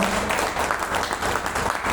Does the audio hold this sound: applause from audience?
yes